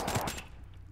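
A quick burst of automatic gunfire in a first-person shooter video game, a short rapid rattle of shots that cuts off within half a second, loud and close.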